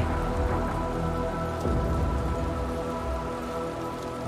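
Rain falls steadily in the video game Little Nightmares, a dense, even hiss of drops pattering on surfaces throughout, fairly loud and unbroken.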